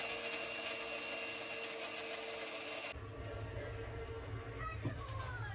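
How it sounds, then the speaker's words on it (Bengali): A mixer grinder grinds coconut pieces into paste, a continuous loud motor whir with rattling that cuts to a lower, rougher churn halfway through, with a faint brief voice near the end. "তো এরকম ভাবে নারকেল কুড়ে নেওয়া হচ্ছে মিক্সিতে"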